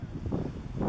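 Steady, loud wind buffeting a microphone outdoors in Las Vegas, a constant low roar with gusty surges and no clear speech.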